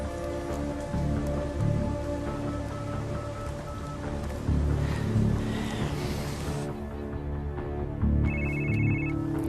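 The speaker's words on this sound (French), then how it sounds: "Votre téléphone." A mobile phone rings in an action film. The repeating electronic ringtone tones sound fairly clear over a dense bed of low rumbling music and ambient effects, and turn more distinct and isolated near the end.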